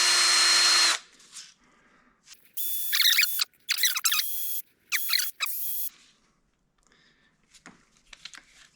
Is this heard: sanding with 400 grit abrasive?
yes